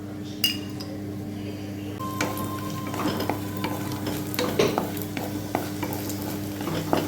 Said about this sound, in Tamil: நெய் காஞ்சிடுச்சு. முந்திரியும் பாதாமும் நம்ம இப்போ வறுத்துக்கலாம்.